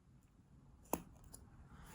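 A pair of scissors gives one quick, crisp snip through crochet yarn on a small crocheted ball, close and quiet against a near-silent room.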